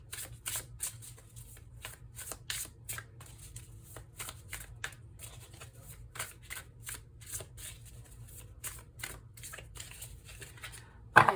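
Tarot cards being shuffled by hand, a steady series of crisp riffling bursts repeating close up for several seconds, with no talking over them.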